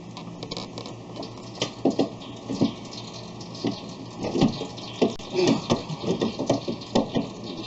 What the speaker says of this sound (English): Just hear it draining.